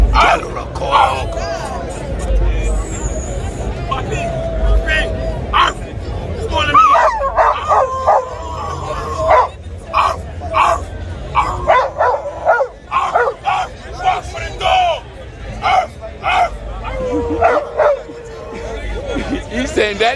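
Several pit bulls bark and yip in loud, repeated bursts amid the crowd babble of a Brooklyn dog gathering and Ruff Ryders celebration, with people talking throughout.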